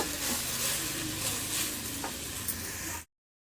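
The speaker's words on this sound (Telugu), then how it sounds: "ఇలాగే కొద్ది కొద్దిగా వేసుకుంటూ తక్కువ మంట మీద కలుపుకోవాలి" Gongura (sorrel) leaves frying over a low flame while being stirred, giving a steady close-up sizzle with soft scraping strokes that carries on until it stops abruptly near the end.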